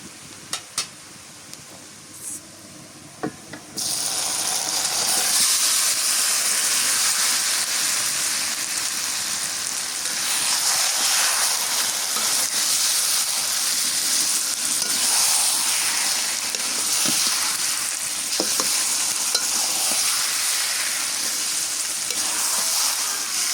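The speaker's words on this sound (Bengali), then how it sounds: "এখন এই যে মাখিয়ে রাখা মাংসটা দিয়ে দিই" Marinated mutton goes into hot oil with fried onions in a pan, bursting into a loud, continuous sizzle after a few quieter utensil clicks, with occasional stirring scrapes underneath.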